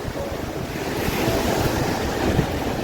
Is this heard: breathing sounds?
no